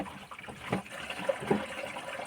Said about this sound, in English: So now we'll see water. Listen to all the funky noises it gives out.